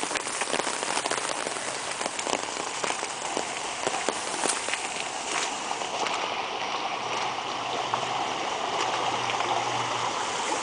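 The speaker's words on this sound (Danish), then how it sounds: "Kan man ikke godt se vandet løber ned her?" Floodwater runs down in Denmark, a steady, splashing rush and patter of water on hard surfaces with scattered drips, continuous and fairly close throughout.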